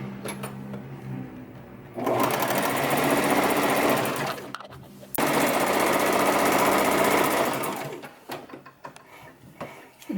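A sewing machine stitches a salwar top in bursts of fast, steady mechanical chatter, two long runs separated by a brief pause, close and loud, easing off into quieter handling at the end.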